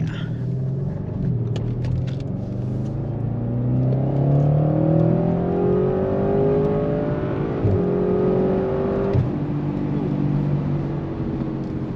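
A tuned Audi RS6 C8 accelerates under a low-speed tune, its engine note climbing steadily in pitch over a continuous deep rumble and road roar, loud and close for the whole stretch.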